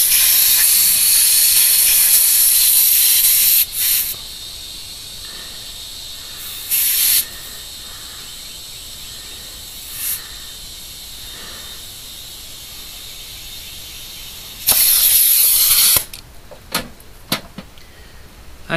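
A noisy air compressor with a leak, used to inflate a car's rear tire, gives loud bursts of hissing air, with several long blasts and brief spurts separated by quieter stretches of low background noise.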